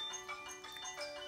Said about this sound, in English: Nice, that's the doorbell?